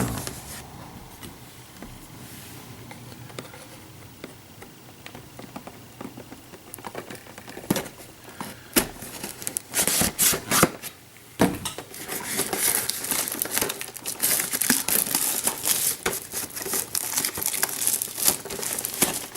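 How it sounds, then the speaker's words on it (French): Unboxing an X-Wing Miniatures Game first-edition expansion pack, Scum and Villainy wave 14 Saw's Renegades: close crinkling and crumpling of plastic and packaging with sharp tearing and rustling bursts, steady handling noise throughout, no talk. "Et sur ce, on va procéder au déballage."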